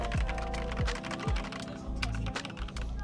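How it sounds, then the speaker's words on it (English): Typing on a Razer Huntsman gaming keyboard: rapid, steady keystroke clatter close by, with a few deeper thunks mixed in under a low background hum. "I got the Razer Huntsman, one of these. This is the one I ordered."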